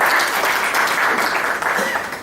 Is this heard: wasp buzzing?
no